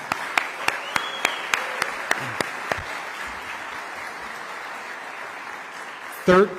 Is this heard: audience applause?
yes